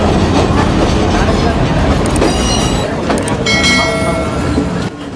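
A train rumbles through Idalgashinna railway station in the Sri Lankan highlands at 5300 ft, loud and close with clattering wheels, metallic squeals and ringing tones, and a voice faintly beneath.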